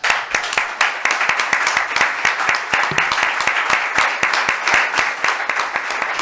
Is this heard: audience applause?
yes